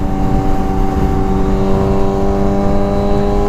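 A Kawasaki Ninja 636 sportbike accelerates hard, its engine a loud, steady, high-revving whine with strong low rumble and wind noise, heard up close from the rider's position.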